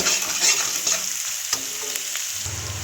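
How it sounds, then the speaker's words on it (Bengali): Ginger frying with turmeric, chili, cumin and coriander powder for a banana flower and lentil dish, a close steady sizzle with brief stirring scrapes and a spatula knock near the end. "আদার সাথে হলুদের গুঁড়ো, লঙ্কার গুঁড়ো ও জিরে ধনের গুঁড়ো দিয়ে একটু ভেজে নিচ্ছি"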